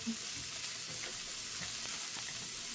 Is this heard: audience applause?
no